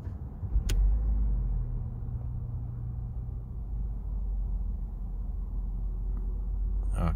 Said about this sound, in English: I'm gonna turn off the car now, and I'm gonna start the engine again